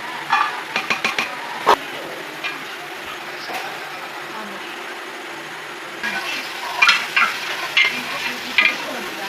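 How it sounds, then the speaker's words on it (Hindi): Garlic and onion tadka sizzles steadily in a handi while a spoon scrapes and stirs, with clattering bursts of stirring near the start and again toward the end over the constant frying hiss. "लहसुन और प्याज का लगाएंगे तड़का।"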